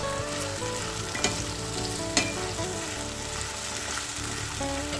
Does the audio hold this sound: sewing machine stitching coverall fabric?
no